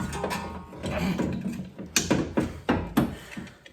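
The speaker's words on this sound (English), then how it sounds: "So I'll start by putting it up into the strut tower here first." Mechanical clunks and ratcheting knocks as a replacement shock strut is pushed up into the strut tower of a Mustang, with several sharp metallic bumps in the second half, close and fairly loud with no talking.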